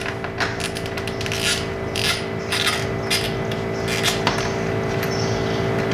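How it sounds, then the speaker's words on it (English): An 8mm socket wrench loosens mudguard bolts on a 2019 Royal Enfield Continental GT 650, giving close, steady ratcheting clicks and metallic grinding with no talking. "So I'm going to use my 8mm, unscrew this."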